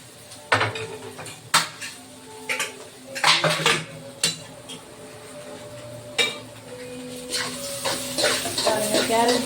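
Carrots and beans tipped into a cooking pan for a pasta dish, heard as a series of close metallic clatters and clinks of utensil against pan with a low background hiss, and no talking.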